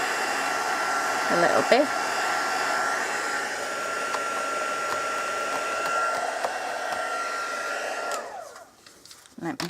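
A heat tool blows steadily over stamped card embossing, a constant close airy roar with a steady whine through it that cuts off near the end. A brief voice is heard beneath it.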